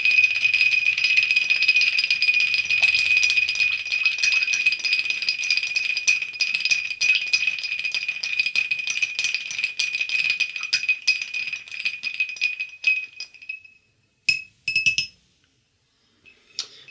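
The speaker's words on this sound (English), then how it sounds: "we're just going to give this a nice little stir" A Black Russian vodka cocktail is stirred with ice in a glass, giving a fast continuous rattle and clinking close by for about thirteen seconds before it stops, followed by a few final clinks.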